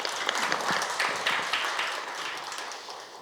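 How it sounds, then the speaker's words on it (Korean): Audience applause at a Korean public-private investment forum: a burst of many hands clapping, fairly close, that gradually thins and fades over about three seconds. "예, 박수 부탁드립니다."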